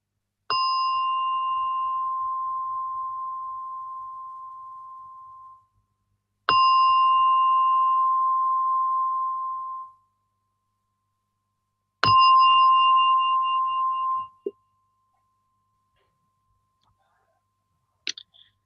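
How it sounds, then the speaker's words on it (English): A meditation gong rings three times in a quiet room, each stroke blooming into a long, steady shimmering tone that decays over several seconds before the next strike, followed by a faint brief tap at the end. "With the sound of a gong slowly coming out from meditation."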